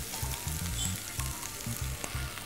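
Onion, eggplant, zucchini and peppers fry together in oil in a pan, with a steady close sizzle and scattered soft low bumps from stirring throughout.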